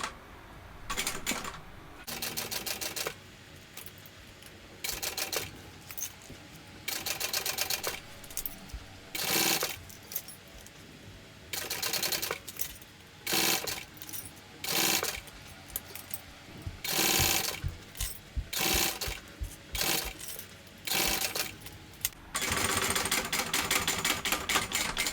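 A sewing machine fitted with a zipper foot stitches the lining of a small crossbody bag, running in short bursts of rapid mechanical clatter separated by brief stops, close and steady.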